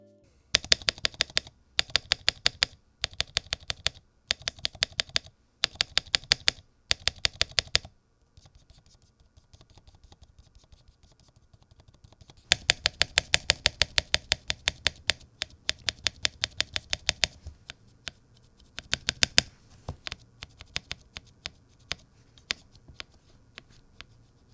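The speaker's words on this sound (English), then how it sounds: "I'm going to be showing you how the stabs sound throughout different stages of the mod" Mechanical keyboard stabilizers after a dry lubing mod, clacking in rapid bursts of repeated keystrokes with short pauses between groups, close and crisp, alone without talk.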